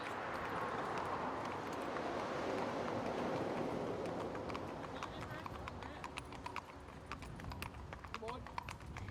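Haflinger horses' hooves clip-clop on a town road, a string of faint, sharp knocks over the rumble of passing traffic and a low voice.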